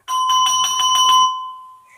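A bright notification bell chimes in a quick run of about seven ringing strikes, then a sustained tone rings out and fades, standing alone without speech.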